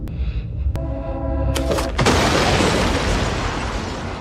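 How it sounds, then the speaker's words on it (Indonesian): A sudden loud blast erupts after a couple of sharp hits, followed by a sustained roaring rumble and debris-like noise. "begitu kotak tersebut dibuka, seketika terjadi ledakan besar"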